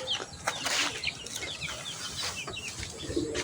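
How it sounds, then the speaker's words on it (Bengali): Chickens cluck and chirp around a village home courtyard, a busy scatter of short calls near and far over a steady outdoor hiss, with a few wing flutters. "এগুলি আমার মুরগি"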